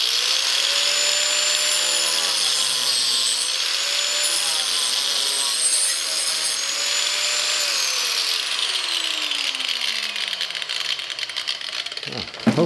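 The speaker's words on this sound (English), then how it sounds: "I'm just gonna go straight down through here and we'll just see how the blade goes" Angle grinder fitted with a Graff no-kickback wood-cutting blade cuts straight down through 3/4 inch plywood, a loud steady high whine with wavering pitch for about ten seconds before spinning down to a stop.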